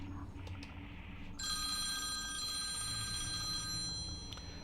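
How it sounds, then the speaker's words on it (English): An in-game phone rings with a steady electronic tone for an incoming call in Elite Dangerous, starting partway in and holding over a constant low ship hum, with no talking. "And I have a phone call."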